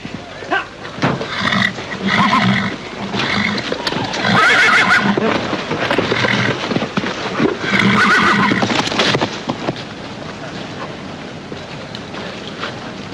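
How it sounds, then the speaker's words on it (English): A wild horse neighs loudly several times in drawn-out whinnies, with hoof clatter and commotion between the calls. "It's a wild horse."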